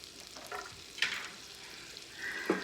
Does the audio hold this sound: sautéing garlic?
yes